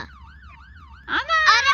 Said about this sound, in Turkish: sirenler açılıyor mu?